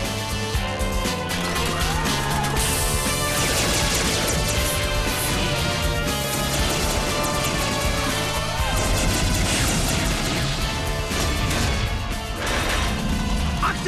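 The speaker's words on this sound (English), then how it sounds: "I didn't hear a please. Firing missiles." A dense, loud cartoon battle din as a robot fires missiles, with continuous crashing, whooshing and smashing impacts layered over each other, along with busy mechanical clatter and no clear pauses.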